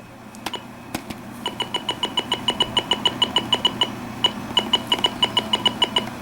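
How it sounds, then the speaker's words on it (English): A steady run of short, evenly spaced electronic beeps from the buttons of a Midland 74-210 weather radio, sounding clear and close with no talking. "so the button beeps"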